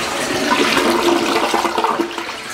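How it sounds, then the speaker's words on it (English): A skirted toilet with a sealed trapway and double cyclone flushing system flushes in one strong, rushing swirl of water that gurgles and churns steadily for a couple of seconds, loud and close. "very nice way to clean the inside of this toilet every time you flush it"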